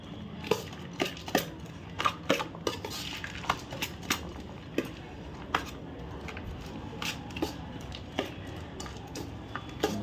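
Bhel mixture being stirred in a bowl, a steady run of clinks and light scraping taps from the utensil against the bowl, close and fairly quiet, with no talking.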